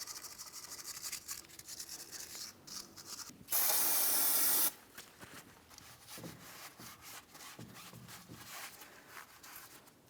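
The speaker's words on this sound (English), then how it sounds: "I'm using a wire brush for this." A wire brush scrubs a car axle on a 2007-2014 Ford Edge during a steering knuckle replacement, giving rough, repeated scraping strokes close by, with a loud hissing burst of spray partway through.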